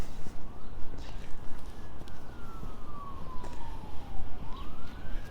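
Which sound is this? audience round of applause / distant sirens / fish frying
distant sirens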